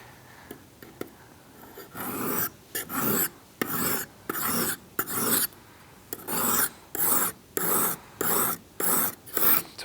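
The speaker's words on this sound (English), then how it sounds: "what I'm doing here is I'm flattening out that bevel" Rhythmic rasping strokes of a leather head knife being sharpened to flatten its bevel, about a dozen even back-and-forth scrapes on an abrasive surface, close and clear with no talking.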